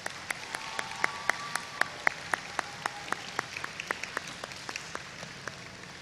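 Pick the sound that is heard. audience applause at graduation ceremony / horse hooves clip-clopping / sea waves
audience applause at graduation ceremony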